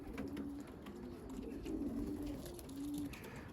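Young racing pigeons coo in soft, repeated low calls close by, several rounded notes rising and falling over a faint outdoor background.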